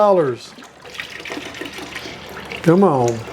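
Evapo-Rust liquid is poured from a gallon jug over cast iron cookware, giving a steady, close splashing pour. Brief talk opens and closes the clip.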